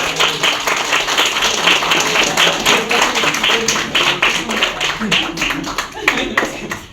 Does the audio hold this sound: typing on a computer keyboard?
no